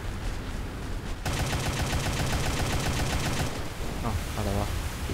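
Rapid automatic naval turret fire from a German warship in War Thunder, a dense continuous burst of shots that starts abruptly and rattles on loudly, then stops, followed by a few scattered tonal sounds.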